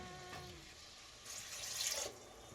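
Water pours into a pressure cooker for mutton biryani, a faint splashing stream that grows louder and fuller toward the end over quiet kitchen background.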